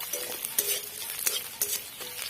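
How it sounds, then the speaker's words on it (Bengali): Chopped garlic, with chopped ginger, fries lightly in a little oil, giving a soft, constant sizzle broken by several sharp scrapes of a spoon stirring in the pan. "আর রসুন কুচি দিয়ে দেব। এটা একটু হালকা একটু ভেজে নিই।"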